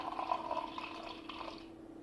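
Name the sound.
rinsing a glass with cold water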